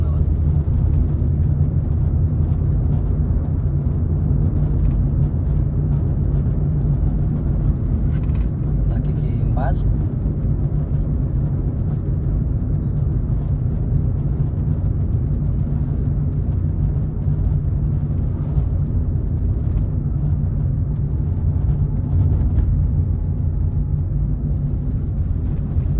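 A Toyota Avanza being driven, its low engine and road rumble droning steadily for the whole stretch, with someone talking over it.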